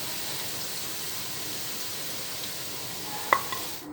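Chicken kofta frying in oil gives off a steady, even sizzle with occasional stirring, and one sharp utensil clink near the end.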